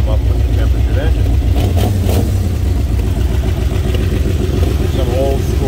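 A 1928 Ford Model A Tudor sedan street rod with a flathead engine runs steadily close by, a loud continuous low rumble with a slight rev near the middle.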